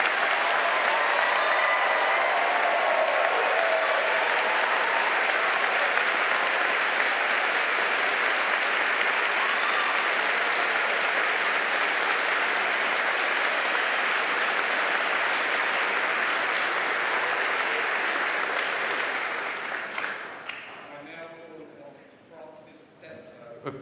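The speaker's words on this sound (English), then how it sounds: "Please, could we give all of our new graduates a big round of applause?" A large audience at a winter university graduation ceremony applauds the new graduates, a dense, sustained round of clapping that carries loudly for about twenty seconds before thinning out and fading away.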